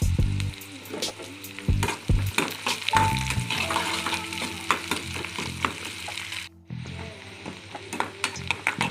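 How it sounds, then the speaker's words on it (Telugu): Onions and curry leaves sizzle and crackle in a hot pan with green chillies, the frying broken by scraping stirs and clinks for the whole stretch, with a brief drop in the sizzle near the end. "తర్వాత ఆనియన్, కొంచెం కరివేపాకు వేద్దాం."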